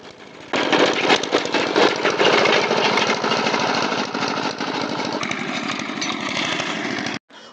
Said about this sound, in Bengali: এই মেশিন বা পাওয়ার টিলার ব্যবহার করে